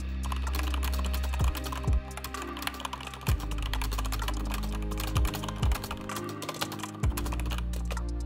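A computer keyboard is tapped in quick, steady clusters of keystrokes while a script is written in a note-taking app, with a few heavier thumps from the space or enter key breaking the rhythm.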